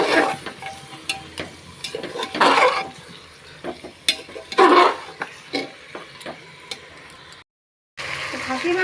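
Goat meat being stir-fried for kosha in a pan: sizzling bursts and scraping stirs come in waves with clinks of a utensil against the pan, then a short gap of silence.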